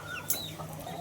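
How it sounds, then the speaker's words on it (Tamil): Country chickens, roosters, hens and chicks for sale, cluck and peep softly at close range, a faint scattered murmur with one brief sharper squawk. "சேவல் இருக்குது, கோழி இருக்குது, குஞ்சு இருக்குது"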